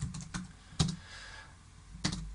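Soft, sparse keystrokes on a computer keyboard, a few isolated clicks spaced across a quiet room with no talking.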